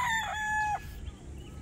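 A young rooster on a farm gives a single loud, close crow with a long sustained note that breaks off sharply, followed by quiet background.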